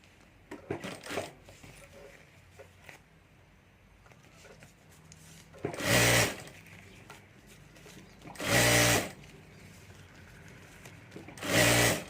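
Sewing machine topstitching the upper edge of a homemade handbag: three short, loud whirring bursts spaced a few seconds apart, with faint handling noises between them and no talk.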